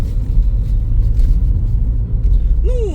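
A car drives along with a steady, loud low engine and road rumble from inside the cabin, constant throughout, with a brief electronic chirp near the end.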